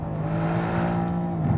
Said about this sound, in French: son échappement pétarade toujours autant